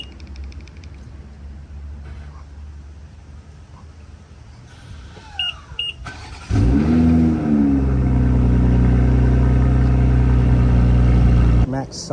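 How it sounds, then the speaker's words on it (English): BMW M240 G42 engine cold-starting before a downpipe install: a brief starter whir, then a sudden loud roar that settles into a high, steady idle, with people talking over it. "give you guys a quick cold start action before"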